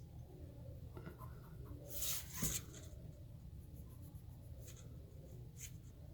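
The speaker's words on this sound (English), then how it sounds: "I can just go make my vertical line, then go to the vanishing points" A pencil drawing lines on paper for an isometric sketch, faint scratchy strokes at a low level with a couple of brief, firmer scrapes near the middle and a few lighter marks later.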